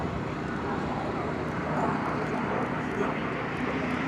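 A de Havilland Vampire jet flies at an airshow, giving a loud, steady, unbroken engine roar that holds close and even from start to finish.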